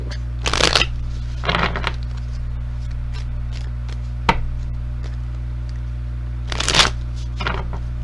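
Cards are shuffled in a few quick riffling bursts, close up, separated by pauses over a steady low hum, with one sharp tap in between.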